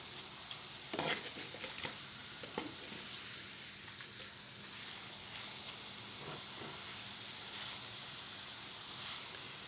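Fine sev-style mixture fries in hot oil with a soft, steady hiss, broken by a few faint clicks and scrapes of a ladle.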